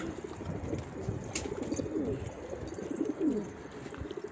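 Pigeons coo softly and repeatedly close by, their low throaty calls overlapping against a faint background hum.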